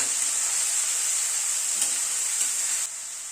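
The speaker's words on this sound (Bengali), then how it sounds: "পেঁয়াজ বাটাটা দিয়ে আবার একটু নাড়াচাড়া করে নিলাম" Onion paste sizzles loudly in a hot pan while being stirred, a dense continuous hiss with faint scraping scrapes, close up, easing slightly near the end.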